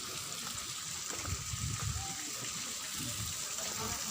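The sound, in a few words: hot spring water gushing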